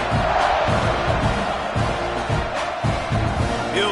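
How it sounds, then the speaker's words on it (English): A large stadium crowd roars in a continuous wash of cheering and shouting, with rhythmic swells throughout. "You think this crowd's going to get loud when their defense comes on the field?"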